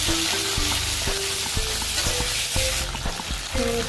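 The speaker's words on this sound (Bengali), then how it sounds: "ডাল কপিগুলো ভাজতে দিলাম" Cauliflower pieces frying in hot oil, with a loud, constant sizzle close by and repeated stirring clatters and scrapes knocking against the pan throughout.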